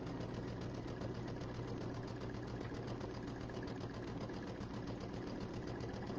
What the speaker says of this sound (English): I'm going to go ahead and sew off the end